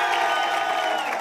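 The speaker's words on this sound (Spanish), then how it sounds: "¡Aplauso para Teo González!" A television studio audience cheers and claps for a comedian, a dense, loud crowd roar with whoops over continuous applause.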